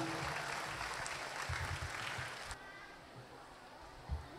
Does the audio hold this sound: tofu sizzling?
no